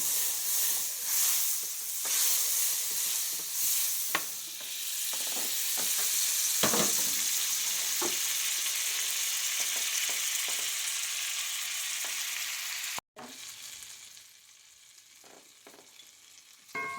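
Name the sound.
butter melting and sizzling in a skillet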